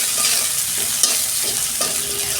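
Onions fry in hot oil with a five-spice tempering, a close, loud, continuous sizzle broken by several scraping stirs of a spatula against the pan.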